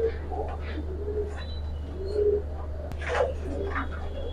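Giribaz pigeons in a loft coo softly and intermittently over a constant low hum, with a few brief chirps and a sharp click near the end.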